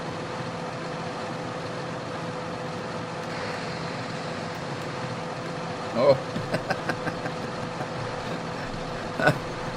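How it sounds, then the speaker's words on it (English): A steady low tractor engine drone idles throughout in Farming Simulator 2013, with a brief spoken exclamation and a few short knocks partway through. "I heard the tractor motor running over there"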